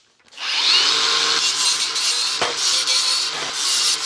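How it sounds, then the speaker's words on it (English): A power grinder grinds the feet of a steel welding cart base flat, making one loud, continuous, harsh high-pitched whine up close for about four seconds. "Let's get the grinder and grind those flat real quick."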